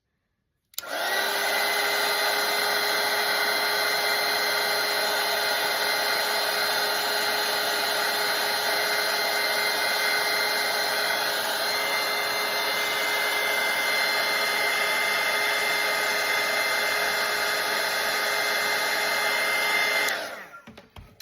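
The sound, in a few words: hair dryer drying watercolour painting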